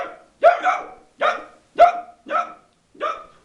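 A man imitates a barking dog with his voice, giving about six short, loud barks in a steady rhythm with brief silences between them.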